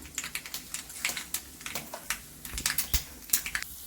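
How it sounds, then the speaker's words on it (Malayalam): Mustard seeds pop and crackle in hot oil while tempering for a tomato chutney, giving irregular, sharp spluttering bursts close up and moderately quiet, with no voices. "എണ്ണ ചൂടായി വന്നിട്ടുണ്ട് കടുക് ഇട്ട് കൊടുക്കാം"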